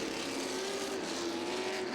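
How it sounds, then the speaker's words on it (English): Race cars in a modified-class race roar around a speedway, a steady loud engine drone with a sustained rising and falling tone as the pack circles, continuous for the whole stretch. "Cars making contact all over the speedway."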